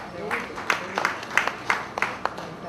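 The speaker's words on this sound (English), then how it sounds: "She deserves a big round of applause from all of us" Quiet applause rises from the audience at a girls' high school annual concert, with soft, steady clapping and a few sharper individual claps standing out at a distance over low background murmur.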